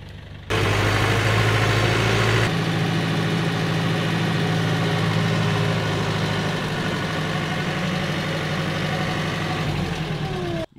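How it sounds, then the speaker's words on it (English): A tractor engine idles steadily and loudly nearby at a farm fencing job, a continuous low rumble with a slight shift in tone partway through before cutting off at the end. "New tractor."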